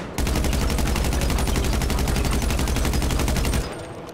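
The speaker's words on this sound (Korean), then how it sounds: "그 다음에는 특별 카빈 소총" Special carbine rifle fire in GTA 5, a sustained, evenly spaced burst of loud rapid shots lasting about three and a half seconds before cutting off, with no voices over it.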